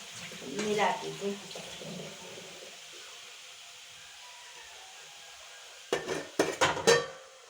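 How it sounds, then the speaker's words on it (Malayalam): A metal lid goes onto a pot of papaya stir-fry cooking over a medium flame, with clattering knocks near the start and a burst of sharp clanks near the end, separated by a quiet hiss. "ഒന്ന് മൂടി വെച്ച് കൊടുക്കാം നമുക്ക്"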